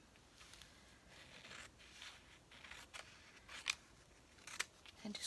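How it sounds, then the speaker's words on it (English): Scissors cutting paper for a collage, faint close snips and rustles scattered through a quiet room, a couple of crisper cuts near the end. "I think I'm going to cut this one"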